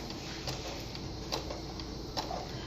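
A sewing machine stitches felt back and forth in a steady, moderately loud mechanical whir with faint periodic ticks and no voices.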